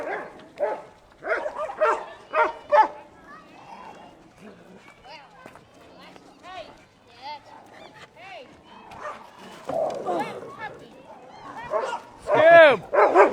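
Farm dogs play-fighting, including a puppy wrestling with its brother, giving yips, whimpers, growls and short barks in irregular bursts near the microphone, while people talk and call to them.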